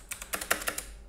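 Computer keyboard typing, a short burst of about eight quick, close keystrokes in an irregular rhythm, clear and alone against a quiet background.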